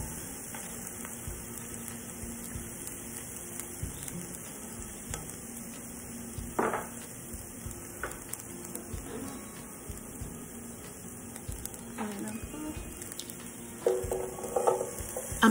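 Finely cut celery frying in half a cup of vegetable oil for fried rice gives a soft, steady sizzle with occasional stirring scrapes, quiet and close.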